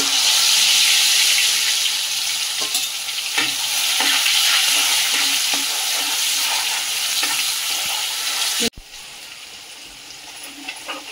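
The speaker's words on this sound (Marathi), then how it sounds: "जिरा, मोहरी टाकली, लसूण टाकते" Garlic, cumin and mustard seeds frying in 2-3 spoons of hot oil, giving a loud, steady close sizzle with occasional stirring scrapes, and a sudden dip in volume near the end.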